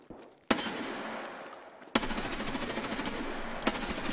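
Loud, sharp M4A1 rifle shots in a video game crack out in bursts, opening with a heavy report and followed by sustained rapid firing with a couple of further strong shots.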